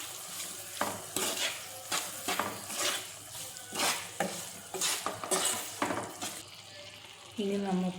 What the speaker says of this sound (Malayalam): അച്ചാർപ്പൊടി നമ്മൾ ഇട്ട് കൊടുത്തിട്ടുണ്ട്. നന്നായിട്ട് ഇളക്കി കൊടുക്കാം.